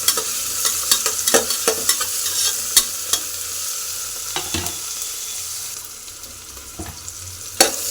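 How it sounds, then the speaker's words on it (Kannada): Tomato and green chilli fry in a pan for a village-style country chicken sambar, a steady close sizzle with frequent light scraping stirs of a utensil throughout, no voices. "ಟೊಮೆಟೊ ಮೆಣಸಿನ್ಕಾಯಿ ಫ್ರೈ ಆಗ್ತಾ ಇದೆ ಅಲ್ವಾ"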